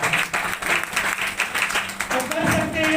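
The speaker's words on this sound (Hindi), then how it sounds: "एक जोरदार तालियां" Seated attendees at a wellness business presentation break into applause, an uneven patter of claps rising and dipping over a few seconds with a faint tone creeping in near the end.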